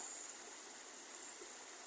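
River water flows steadily in a continuous broad rushing wash, close and even, with no voices.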